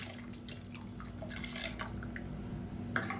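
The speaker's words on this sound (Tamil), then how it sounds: "இப்போ மிக்ஸி அலசிட்டு இந்த தண்ணியை சேர்த்துக்கலாம்" Rinse water from a mixer jar being poured into a pan of chutney in a home kitchen, faint splashing and dripping over a low steady hum, close by, with no talk.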